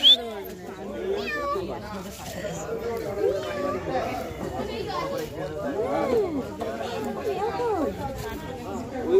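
Cats meow repeatedly at a family picnic, with several rising and falling meows mixed among the chatter of adults and children.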